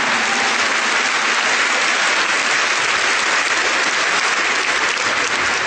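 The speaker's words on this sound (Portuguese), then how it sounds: "Give the Lord a big clap for that" A church congregation gives a loud, sustained round of applause, dense clapping that continues evenly throughout without any speech over it.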